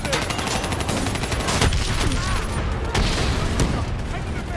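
Dense gunfire fills a Call of Duty Black Ops 3 battle against an APC and a VTOL. Rapid automatic bursts and booms continue throughout, loud and close.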